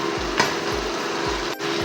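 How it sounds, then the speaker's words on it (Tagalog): Meat searing in a hot pan on a stove, a steady close sizzle and crackle with faint stirring scrapes, one sharp clack partway through, no voices. "Luto lang natin yung karne hanggang sa iba na yung kulay niya, mag-brown na."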